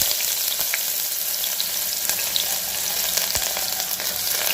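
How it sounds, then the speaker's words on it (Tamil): Onions sizzle and crackle steadily in hot oil, a dense continuous frying hiss with occasional sharper pops, no voices. "இப்போ இதில் நம்ம நறுக்கி வச்சுருக்க வெங்காயத்தை சேர்த்துக்கலாம்"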